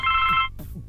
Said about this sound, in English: I'm gonna answer the phone